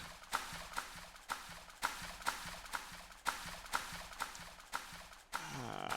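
Footsteps sloshing through a pool of water in the video game Silent Hill 2, a steady walking rhythm of about a dozen soft, evenly spaced splashing steps at close range.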